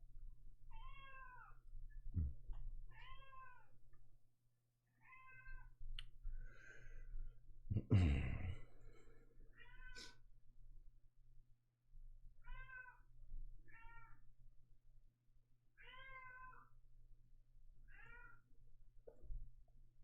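A cat meows repeatedly at close range, about ten short separate calls spread evenly over the stretch, with brief clicks and low background hum between them.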